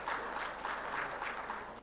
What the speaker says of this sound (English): Let's clap for him, please.